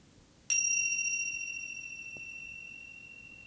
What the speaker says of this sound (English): let's tune in first to the sound of the bell. And follow the sound of the bell all the way through until it vanishes